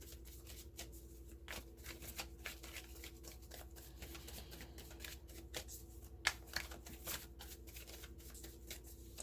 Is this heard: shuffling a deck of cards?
yes